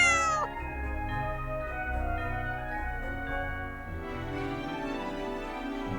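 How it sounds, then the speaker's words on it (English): A cat meows in a long, drawn-out, tonal cry, followed by further wavering meow-like calls, close and clear with no talking. "C is for cat. With a purr and a meow, they're masters of naps and sneaky prowls."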